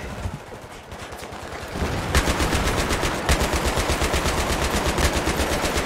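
Machine gun suppressing fire in Battlefield 3: long sustained bursts of rapid, evenly spaced shots, growing louder and heavier partway through and hammering on steadily to the end.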